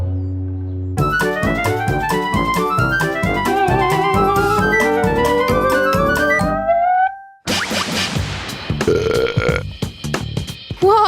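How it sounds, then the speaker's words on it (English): A long, loud burp with a pitch that rises steadily, then breaks into a rougher, noisier stretch, all under a lively backdrop of bouncing cartoon-style sound effects. "Burping is perfectly natural"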